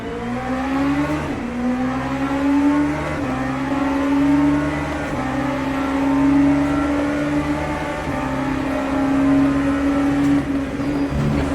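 Race cars in the Le Mans Ultimate sim game accelerate off the start, a loud, steady engine drone rising through the gears in repeated upshift steps, close and continuous with no talk.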